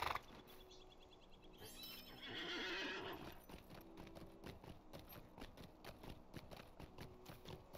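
A horse in the video game Lord of the Rings Online gives a loud neigh, then its hooves clip-clop in a quick steady rhythm, close and clear with no talk.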